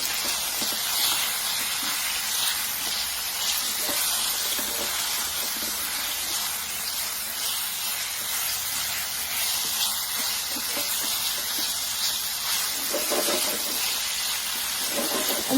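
Wild shrimp sizzling in a hot pan, a steady broad hiss that runs continuously and fairly loud throughout, with no talk over it.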